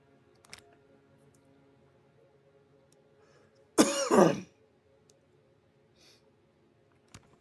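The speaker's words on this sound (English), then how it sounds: "hopefully that huge cough was muted successfully" A single loud, harsh cough bursts out close to the microphone during a game session, lasting about half a second against a quiet background with faint clicks.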